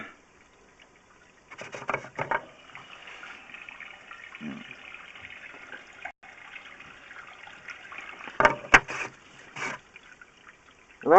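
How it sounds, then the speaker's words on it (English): Water runs from a household fixture, a soft trickling flow that swells into stronger gushing bursts partway through and near the end, heard fairly close with no talk over it. "is there another water fixture that just turned on?"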